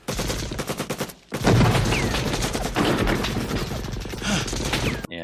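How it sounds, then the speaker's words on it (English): Film gunfire from Predator, sustained rapid automatic bursts that pause briefly and then return as a dense, continuous volley of shots, loud and close, without speech. "And he's just firing away."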